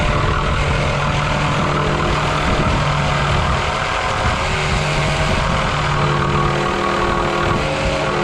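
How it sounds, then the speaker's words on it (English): Jigsaw cutting a scribe line on a cabinet, a continuous loud buzzing drone with a steady motor hum running the full length without pause. "I got to cut this line right there very carefully with my jigsaw"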